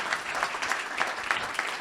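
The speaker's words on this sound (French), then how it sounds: "Merci beaucoup, monsieur le ministre. On vous applaudit." Brief burst of audience applause for a minister at a regional export event, close, steady clapping with a few sharper claps standing out.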